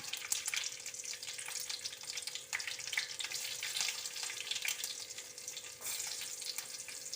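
Soft, steady sizzle of chopped onion frying in oil after mustard seeds have begun popping, with crackling and occasional stirring sounds throughout, no voices.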